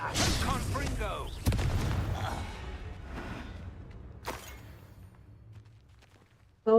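In Hogwarts Legacy, a Confringo blasting curse goes off with a sudden heavy thump, followed by a second sharper blast and fading rumble, with a voice speaking early on.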